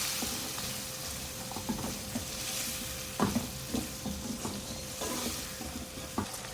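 A spoon stirs French beans and cubed potatoes frying in a pan, giving a steady sizzle broken by repeated scraping knocks at an uneven pace, close by, with no talking.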